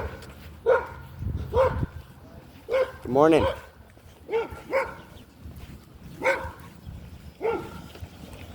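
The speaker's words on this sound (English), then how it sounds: "we don't want to be barked at by dogs. You guys can probably hear them." Several dogs bark in short, repeated bursts nearby, with a whiny yelp in the middle, while a person speaks a brief greeting.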